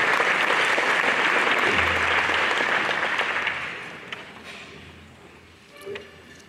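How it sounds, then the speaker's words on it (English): A chamber of commerce awards ceremony audience gives loud, sustained applause that fills the room, then thins out and fades to scattered claps after about three and a half seconds. "Give J.B. a big round of applause"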